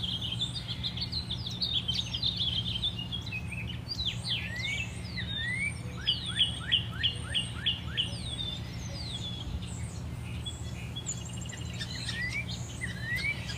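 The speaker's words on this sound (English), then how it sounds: "enjoying the bird sounds" Birds sing and chirp in bright, quick trills and whistled phrases, with a sustained run of repeated notes in the middle, over a quiet outdoor hum.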